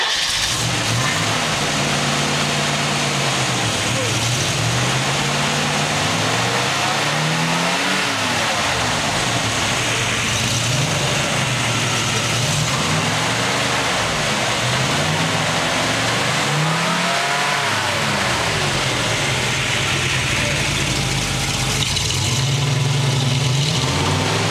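A 1960 Chevrolet Corvette engine runs close and loud throughout, revving up and settling back repeatedly in uneven surges over a steady rumbling idle, with no talking.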